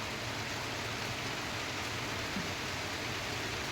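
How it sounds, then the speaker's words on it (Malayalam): Steady, even hiss of rain falling, a continuous broadband wash with no voices or other distinct sounds. "മഴ വന്നു"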